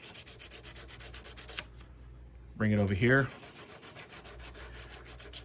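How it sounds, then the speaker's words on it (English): A waterfall clip has its edge sanded by hand in steady, rhythmic back-and-forth rasping strokes, close and clear, broken by a brief pause and a short voiced sound. "It's harder to sand it when I've already sanded one edge"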